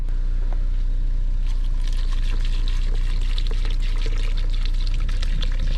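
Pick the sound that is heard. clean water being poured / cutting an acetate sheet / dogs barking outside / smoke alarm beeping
clean water being poured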